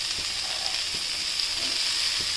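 Two big tomatoes dropped into a hot frying pan over sliced onions for dhaba-style butter chicken, giving a steady bright sizzle with faint soft clicks of stirring, close and alone without talk.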